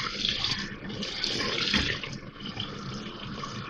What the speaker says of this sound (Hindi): आधी प्याली पानी डाल रही हूँ मैं इसमें